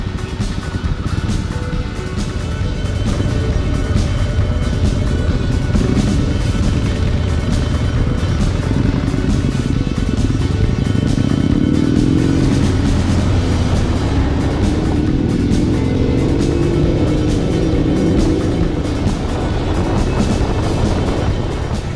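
Custom motorcycles on an open road, a steady loud engine roar mixed with heavy wind rush, the pitch rising and falling slightly as the bikes ride on together.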